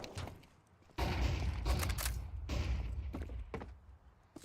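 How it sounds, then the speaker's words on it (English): A flashbang grenade bursts in a video game, a sharp loud blast with a rumbling tail, followed by further bangs and clatter, with no talk over it. "Deploying flashbang. Grenade out."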